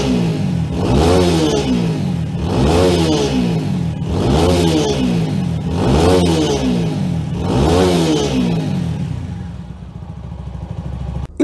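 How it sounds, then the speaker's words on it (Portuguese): Dafra Apache RTR 200 motorcycle with its original exhaust, revved five times in a steady rhythm, each rev rising and falling loudly up close, then settling to a lower idle before a final blip. "E se liga só o ronco dessa moto, mesmo com o escapamento original fazendo um ronco sensacional."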